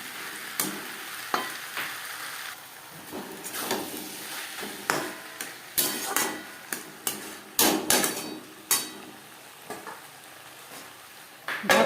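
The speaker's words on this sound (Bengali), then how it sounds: "পেঁয়াজের সাথে আলু আরও 3-4 মিনিট রান্না করব।" Potatoes and onions fry on medium heat in a pan for a Bengali rohu fish curry, with steady sizzling broken by repeated sharp scrapes and knocks of the spoon stirring against the pan.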